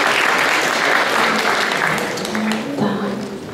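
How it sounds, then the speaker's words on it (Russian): An audience applauds steadily throughout, a dense mass of clapping hands in a lecture room, with a few voices briefly audible near the end. "Давайте ему похлопаем."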